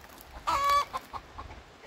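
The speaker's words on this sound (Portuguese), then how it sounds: "Esa galina es la que coloca ovos aquí." A hen, just off her nest, gives one short, bright cluck up close, followed by a few softer low clucks and quiet farmyard sounds.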